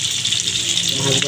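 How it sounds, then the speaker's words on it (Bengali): Fish fries in a pan of oil with a loud, dense, continuous sizzle and crackle, heard up close with no pauses. "এখন মাছ ভাজি চলতেছে"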